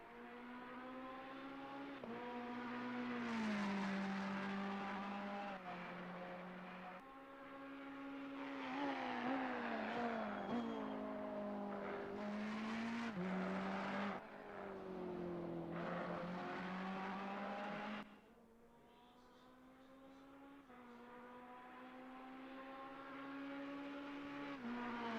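A Ferrari race car engine in Assetto Corsa drones steadily around Imola, its pitch rising through the gears and dipping at each shift. The tone stays loud and continuous, easing briefly near the end.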